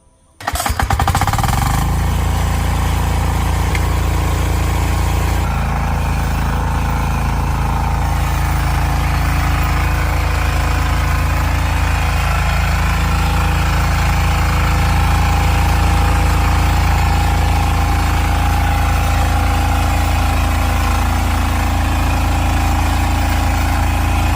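An engine-powered grass cutter fitted with a blade starts up in a plantation, then runs loud and close at a steady, buzzing idle for over twenty seconds with no voices.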